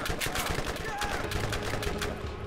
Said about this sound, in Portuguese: O cara me dando tiro.